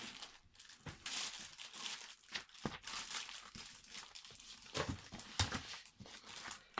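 Packaging of a Naruto figurine being torn open and handled, with repeated close crinkling and crumpling of plastic and cardboard in irregular bursts, no talking.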